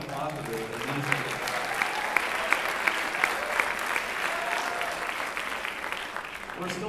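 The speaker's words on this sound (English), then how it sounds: "Round of applause for the administrator." Audience at a symphonic band spring concert applauding in an outdoor shell, a steady dense clatter of many hands sustained throughout with a few louder claps standing out.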